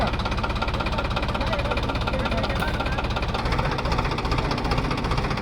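A John Deere tractor engine labours steadily as it strains to pull out of deep mud on a farm, a loud continuous rumbling drone with knocking pulses, close by and unbroken throughout.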